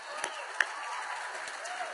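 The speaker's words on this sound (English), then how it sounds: "Everybody give Leah a round of applause." A crowd claps for Leah during an anti-aging serum presentation, a soft, even wash of applause with a couple of sharper nearby claps.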